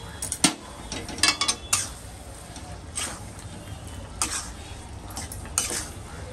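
A spoon scrapes and clinks against a pan while cream is stirred into a restaurant-style Mughlai chicken gravy, with repeated metallic taps over a steady background hiss.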